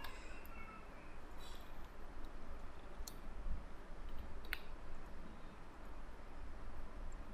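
A computer mouse clicks a few times during editing in Microsoft Word. The clicks are isolated, crisp and fairly soft, with a steady faint room hiss in between.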